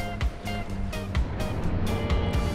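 Surf rolling onto the beach at Pantai Bugel Mega Camara in Banten, a steady broadband wash of breaking waves with repeated surges, close and fairly loud, with no voices.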